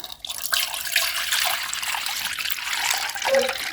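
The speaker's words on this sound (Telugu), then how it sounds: "మనం తగినంత నీళ్ళు అయితే ఇక్కడ పోసుకోవాలి" Water pours steadily into a cooking pot for ragi sangati, a close, continuous splashing gush with no talk over it.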